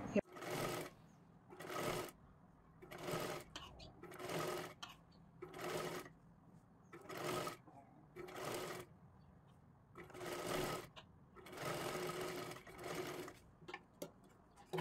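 A sewing machine stitches round the neckline of a blouse in repeated short, loud whirring bursts separated by brief pauses, with a person talking quietly between runs.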